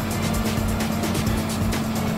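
A Yamaha Tracer 9GT motorcycle rides along a road, its engine a steady, close, continuous drone under rushing wind noise.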